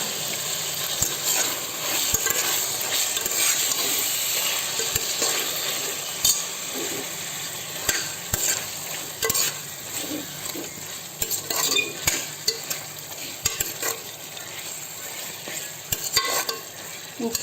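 Mutton is stirred into biryani paste in a pan. A continuous sizzle runs under irregular scrapes and knocks of a spoon against the pan, with the stirring growing busier toward the end.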